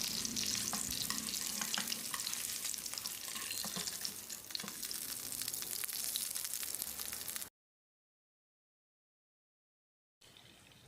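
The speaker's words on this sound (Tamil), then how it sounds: "அதனால தான் ஃப்ரை பண்ணுறோம்" Potatoes frying in a pan for a mushroom potato fry, a loud, dense, continuous sizzle up close that cuts off abruptly into silence, then briefly resumes.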